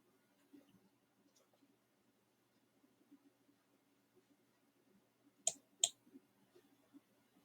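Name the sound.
computer mouse clicking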